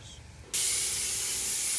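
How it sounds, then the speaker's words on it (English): A spray gun sprays Evercoat gelcoat onto a 1966 Corvette: after a quiet start, a loud, steady hiss bursts in about halfway and continues unbroken to the end. "We're still spraying."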